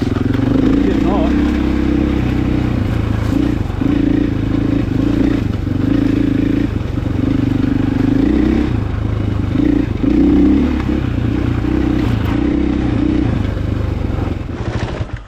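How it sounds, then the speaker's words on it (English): A KTM 500 motorcycle running hot while riding off-road around old mine sites, its engine a loud steady drone with pulsing revs, close and continuous throughout. "Poor old bike is getting hot."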